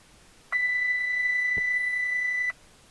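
A single steady electronic beep from aircraft avionics sounds for about two seconds as the avionics master switch is turned on, clear and close against a low background hum.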